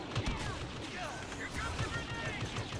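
Blaster fire in Star Wars Battlefront, rapid zapping shots with whistling bolts in a busy, continuous firefight, with players talking throughout.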